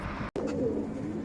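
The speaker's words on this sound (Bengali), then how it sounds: "তো চলুন কবুতরগুলো দেখে নেই" Pigeons at a home loft coo softly in a short, low murmuring burst that briefly cuts out, then carries on steadily at close range with no talking.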